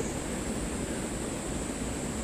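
Daecheoncheon stream near Geumjeongsanseong in Busan, swollen after heavy rain, rushing water heard as a steady, dense roar of noise with no breaks or voices.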